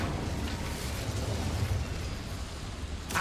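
The Incendio fire spell is cast in Hogwarts Legacy as a sustained roaring, crackling burst of flame that holds steady and loud for about three seconds before cutting off.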